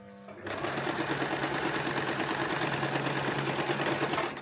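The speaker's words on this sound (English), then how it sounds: "So that is all of our sewing done." A sewing machine runs steadily for about four seconds, stitching the long waistband of a wrap skirt, with a continuous close whirring hum and no talk.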